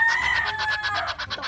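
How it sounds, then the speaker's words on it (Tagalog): A pet duck quacks in a quick run of loud, close, evenly spaced calls that carry on steadily with no one talking over them. "Ito ang aming alagang bibe"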